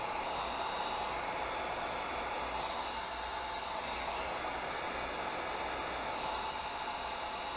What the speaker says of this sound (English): Just lightly with the heat gun.